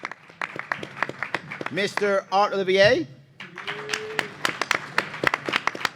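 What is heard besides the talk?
audience clapping for debate candidate introductions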